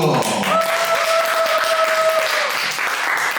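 A church youth worship congregation claps together in steady, dense applause, with a sustained held tone running through the middle.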